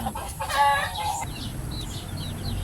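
Chickens cluck nearby, with a short burst of louder squawking early on, then softer scattered clucks continuing to the end.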